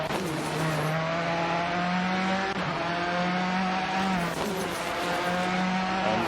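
Onboard a rally car on a stage of the MAHLE Rally Nova Gorica, the engine screams loudly and climbs through the revs, dropping sharply at each gear change in a repeating pattern, with no talking.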